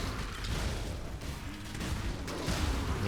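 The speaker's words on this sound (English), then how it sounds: "I mean, look at those explosions." Death's Fury explosions in Path of Exile burst in a dense, continuous barrage of booms and crackles, loud and overlapping throughout, with no voices.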